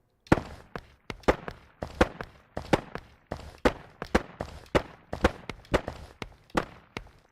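Remote rifle shots in a Wwise Reflect demo in Unreal Engine, firing as a regular series of sharp reports, each followed by a short reflected tail, fairly distant and alone with no talk.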